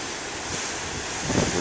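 Big ocean waves crash on the shore in a continuous loud roar of surf, with wind buffeting the microphone and a heavier surge near the end.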